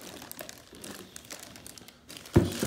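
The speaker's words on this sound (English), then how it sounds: "Let me get it unwrapped." Packaging crinkles and rustles faintly as a new speaker with a paint cover is unwrapped, ending in a sharper, louder burst of crumpling near the end.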